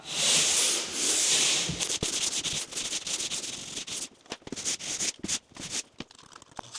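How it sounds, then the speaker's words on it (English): Hand sanding a house wall with 150 grit sandpaper: a loud, close, continuous rasping scrape at first, then shorter back-and-forth strokes with brief gaps. "this is 150 grit sandpaper"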